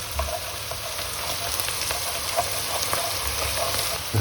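Lardo melts and sizzles in a soup pot with sautéed vegetables and a bay leaf for Tuscan bean soup, a steady close crackling fry with occasional scraping from stirring.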